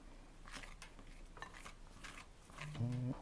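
Dough ingredients with a teaspoon of rosemary are stirred and mixed in a bowl, producing soft scraping and clinking utensil sounds that grow louder near the end.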